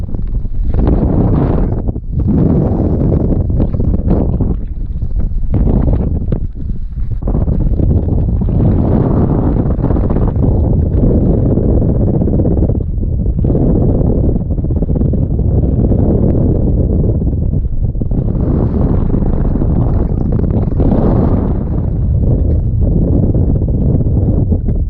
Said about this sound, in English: it's really, really windy, which obviously affects your stability.